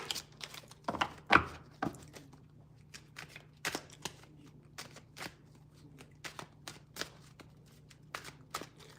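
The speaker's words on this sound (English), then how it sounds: "Get one more shuffle." Playing cards shuffled repeatedly during a live card reading, a sharp riffle burst early followed by a steady run of soft crisp card flicks and taps, fairly quiet with a low background hum.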